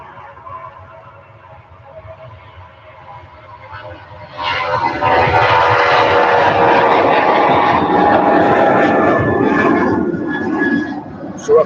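A Ryanair airliner taking off at Manchester Airport: a distant low engine rumble swells after a few seconds into a loud, roaring jet thrust that holds steady, heard outdoors from nearby.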